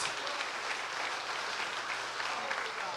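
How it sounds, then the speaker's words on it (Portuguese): A church congregation at a youth worship service claps together in a sustained, dense round of applause at moderate distance, steady and even for the whole stretch. "Dê uma salva de palmas para Jesus Cristo."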